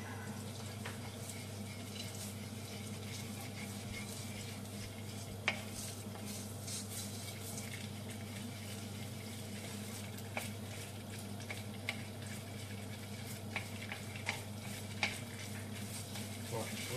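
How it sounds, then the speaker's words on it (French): Miso being stirred into olive oil to form a paste, a soft steady scraping and mixing with a faint sizzle underneath and a few light clinks of utensil against the pan, close and continuous. "je vais mélanger mon miso avec mon huile d'olive"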